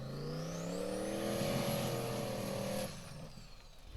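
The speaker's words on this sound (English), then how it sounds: "Listen to that turbo." A turbocharged Formula Offroad buggy engine at an off-road world cup event, revving hard with a rising turbo whine that sustains for a few seconds, then drops off abruptly to quieter background noise, loud and fairly close.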